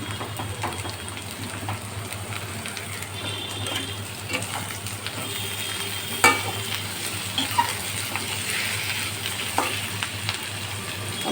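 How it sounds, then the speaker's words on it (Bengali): Beans and capsicum sizzle steadily in a hot pan with a broad, continuous frying hiss, broken by scattered clicks and scrapes as the vegetables are stirred; no one speaks. "আমি এই সবজিটা ফ্রাই করে নিচ্ছি আগে"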